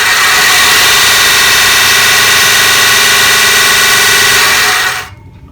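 A Bucktool 1x30 belt and disc sander runs with a coarse conditioning belt, giving a loud, steady, close abrasive whir and hum that holds evenly before cutting off abruptly near the end.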